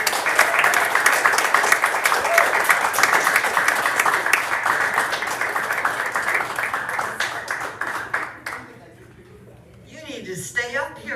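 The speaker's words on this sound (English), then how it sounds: "To stay up here and get that applause, Patty." A storytelling-event audience claps after a story, steady applause filling the room for about eight seconds before fading out, with a voice starting to speak at the end.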